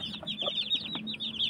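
Aseel chickens cluck and chatter close by, with short bursts of calls over a busy background of birds and farmyard noise.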